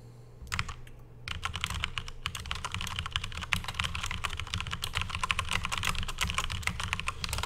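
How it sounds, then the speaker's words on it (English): Continuous clattering keystrokes on a mechanical keyboard, close and loud, forming an irregular rapid rhythm that runs almost unbroken for several seconds with no voices. "Mechanical keyboard, I apologize for your ear."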